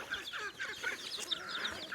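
Broiler chickens on a farm clucking in a busy overlapping chorus, several birds calling at once at moderate distance, steady and fairly quiet throughout with no talking.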